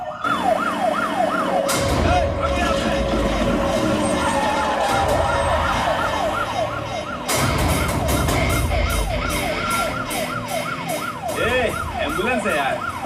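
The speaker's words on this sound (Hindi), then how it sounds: "ये तो पुलिस का सायरन है।" A loud, nearby police siren wails continuously, its pitch sweeping rapidly up and down in overlapping cycles throughout.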